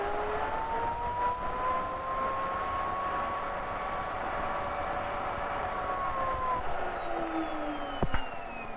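A high-speed rotating mirror apparatus driven by a motor in a 1959 speed-of-light experiment whines as it spins up, a steady tone gliding slowly upward with a brief knock near the end.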